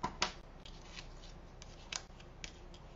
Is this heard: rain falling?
no